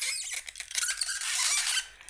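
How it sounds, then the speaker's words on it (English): A cheap 3D-printed camera dolly squeaks as it rolls, a shrill, wavering squeal that runs nearly continuously for about two seconds with brief dips, loud and close with no talking. "It's a bit squeaky"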